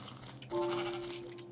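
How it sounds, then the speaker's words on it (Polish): A single sheep bleat from Minecraft sounds clearly, a steady nasal cry lasting about a second over a faint background hum. "Owca."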